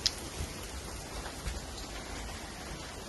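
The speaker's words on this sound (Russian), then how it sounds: "Жесткий идет ливень" Heavy rain falls as a steady, dense hiss on a roof or other surface at a rural property, even and continuous, moderately quiet, with no speech and only faint drop taps.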